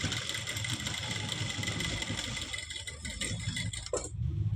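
A sewing machine stitches a saree corner, a steady rattling whir that runs for several seconds and then stops abruptly.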